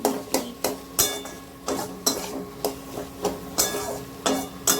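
Rhythmic clanks of a spatula scraping and knocking against a pan as spices are stir-fried for kabuli chickpeas, about ten distinct strikes spaced steadily under a faint sizzle.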